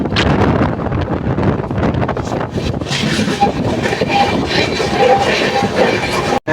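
The 12837 Puri Superfast Express runs at speed, a loud continuous rumble and rattle of rolling coaches with heavy wind rush, steady throughout and cut by a brief dip at the very end.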